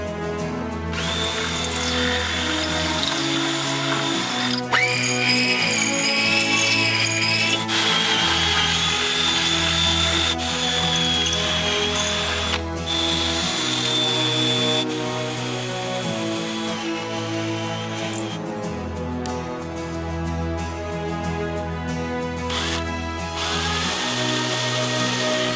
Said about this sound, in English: now we're going to drill the other side